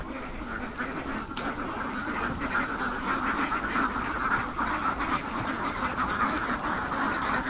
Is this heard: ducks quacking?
yes